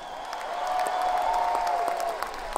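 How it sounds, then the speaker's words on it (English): A concert crowd at an outdoor music pavilion applauds and cheers, a distant, fairly faint wash of claps with a sustained tone ringing through. "give yourselves a round of applause for showing up"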